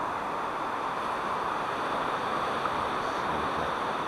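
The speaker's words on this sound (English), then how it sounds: "Have a little bit of wind, tiny bit of wind blowing from the east" A light easterly wind blowing outdoors gives a soft, steady rush of broadband noise, even and fairly faint, with no other sounds over it.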